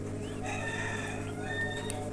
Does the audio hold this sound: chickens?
yes